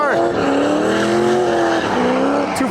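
A rear-wheel-drive Nissan 240SX with an LS V8 drifts at a grassroots event, its engine howling loudly with rising and falling pitch through the slide, while a voice talks over it.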